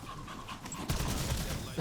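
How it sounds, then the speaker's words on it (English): A zombie in Call of Duty BO7 Zombies pants in rough, dog-like breaths, close and continuous, over a dense layer of game noise and gunfire. "Dude's like panting like a dog."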